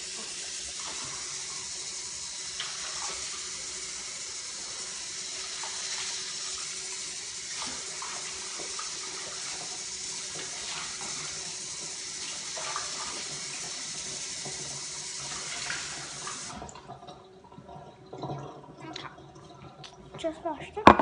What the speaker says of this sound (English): I'm gonna wash my cup.